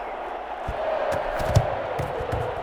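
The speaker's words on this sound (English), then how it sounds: "Oh, you're going slow clap on me." Stadium crowd noise in the Madden 21 football game during a Bears vs Raiders contest, a broad steady murmur with a series of soft, evenly spaced thumps like a slow clap rising from the stands.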